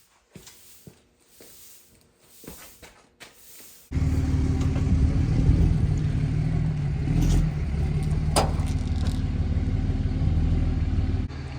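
Ram 50 mini truck engine starts up after a few quiet knocks and clatters, then settles into a steady, loud, close rumble that runs continuously to the end.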